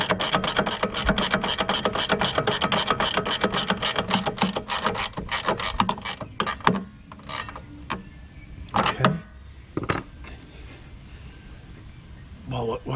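A ratchet wrench clicks rapidly and steadily up close while tightening a 13.5-inch nut on a Cyclone Rake impeller, a dense run of sharp clicks that gives way to a few scattered knocks and handling sounds.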